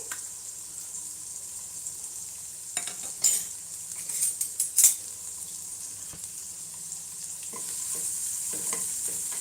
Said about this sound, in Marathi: आता शिमला मिरची आणि कांदा टाकून घेऊया छान असं थोडं एक दोन सेकंद फ्राय करून घेऊया